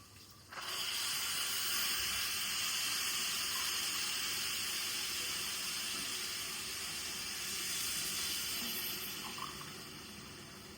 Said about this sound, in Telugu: ఇప్పుడు 3 గ్లాసులు వాటర్ వేస్తున్నాను.